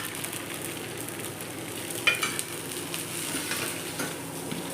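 Chicken dosa frying in oil on a pan, a steady broad sizzle that fills the whole clip, with a brief louder crackle partway through and no talking.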